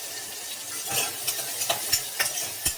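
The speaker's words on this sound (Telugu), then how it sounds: "ఆయిల్ వేసుకున్న తర్వాత ఆనియన్స్ వేద్దాము." Onions fry in hot oil for a potato and pea kurma, a steady close sizzle broken by several sharp scrapes and knocks as a spoon stirs the pan.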